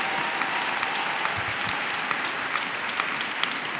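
A church congregation applauds during a sermon, with dense, steady clapping filling the whole stretch and a few sharper individual claps standing out.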